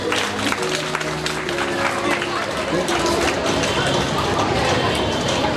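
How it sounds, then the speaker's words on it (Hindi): An audience at a school annual day celebration applauds an exhibition entry, with dense, loud clapping that fills the whole stretch and a faint tonal hum in the first seconds. "ताली बजाइए प्रदर्शनी के लिए।"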